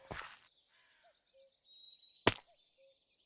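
A crow-like bird in a Minecraft-style SMP server game gives two sharp, loud caws a couple of seconds apart, each followed by short thin chirps. The gaps between them are quiet, and no one speaks.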